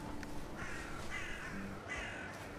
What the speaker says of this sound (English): Damn crows, too.